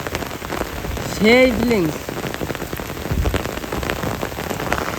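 Heavy rain pours down steadily in a dense, close hiss across the whole stretch, with a brief voice speaking over it near the start.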